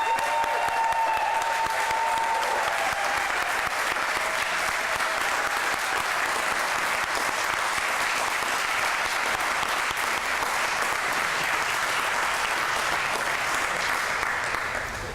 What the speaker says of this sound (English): how about one more big round of applause for all of our new citizens today?